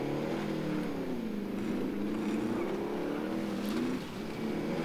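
Vehicle engine in the video game Call of Duty Warzone, a steady loud motor drone with shifting pitch as it drives, running continuously with a brief dip near the end.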